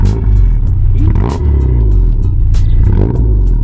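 A car engine with an aftermarket intake revs loudly and close, a buzzy, dense drone that rises and falls steadily throughout, with a few faint clattering touches.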